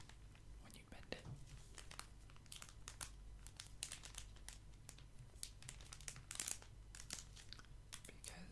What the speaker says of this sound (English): But I absolutely love the sound the plastic makes